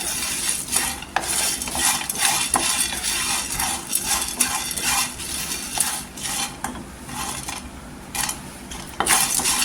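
Whole spices such as black pepper, cloves and cardamom dry roasted in a pan for garam masala, giving steady scraping and rattling as they are stirred, with bright clinks and taps recurring throughout, close and fairly loud.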